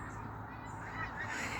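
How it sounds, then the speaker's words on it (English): Geese honk from a distance over steady outdoor noise on a cold, windy day, the calls faint and scattered across the brief moment with no clear talk. "here come the geese"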